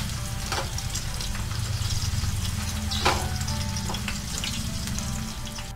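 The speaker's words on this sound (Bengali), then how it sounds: "আপনারা আদা কুচিটা 1 থেকে 2 মিনিট ভাজবেন" Chopped ginger fries in hot oil as the first step of a taki fish bharta, giving a continuous close sizzle and hiss with occasional louder spatters and no talking.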